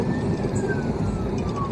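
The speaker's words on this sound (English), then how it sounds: "They've just activated lights and sirens after an urgent call." A police car siren wails continuously close by with a rumbling engine underneath, as officers respond to an urgent call on a highway.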